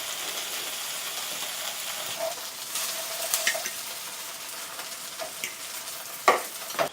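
Tofu fries in a hot pan to build a crust, with a continuous soft sizzle broken by scattered scrapes and clinks of stirring, louder taps near the end.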